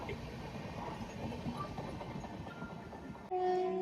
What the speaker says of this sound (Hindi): अंजनी स्टेशन पे क्रॉसिंग हो रही है मैंगलोर सूरत एक्सप्रेस से